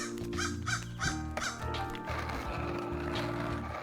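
Crows cawing in the game SkateBIRD: several harsh, rhythmic caws repeat over a steady music bed, fairly close and prominent, with no speech.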